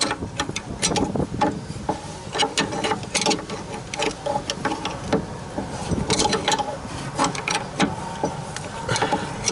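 A BC coilover collar on a 2004 SRT-4 being spun down to lower ride height, giving a close metallic clicking and scraping in irregular bursts against low background hum.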